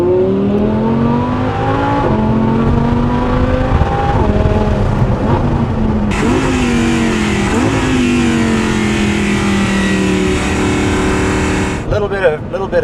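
An Audi R8 LMX with its V10 engine accelerates hard along a road, its loud rising wail stepping through several gear changes and sustaining a powerful, musical roar while a person talks over it throughout.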